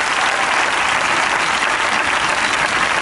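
Dense, steady audience applause at a sports recognition ceremony in San Pedro Alcántara, a loud continuous wash of many hands with no voices.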